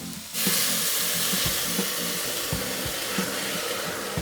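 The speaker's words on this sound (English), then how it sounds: "as you can hear them sauteing away" Vegetables sauteing in a pan for spring vegetable risotto, a steady close sizzle and hiss with faint stirring clinks running throughout, no talking.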